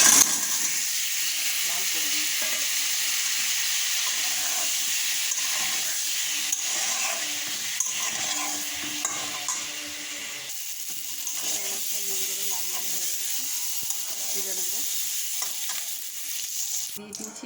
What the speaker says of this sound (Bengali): নুন আর তেল দিয়ে দিয়েছি ডিমগুলো ভেজে নেব